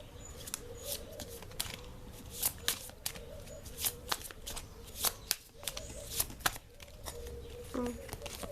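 Tarot-style cards shuffle in quick riffling bursts with crisp snaps and flicks, close and fairly quiet, continuing steadily across the stretch.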